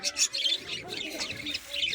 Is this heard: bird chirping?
yes